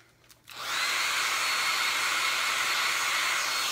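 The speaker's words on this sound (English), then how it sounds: "I just use a little travel hair dryer on full" A small travel hair dryer on its full setting switches on with a quick rise and then blows a steady, loud whooshing hiss with a faint motor whine, running continuously and unaccompanied to the end.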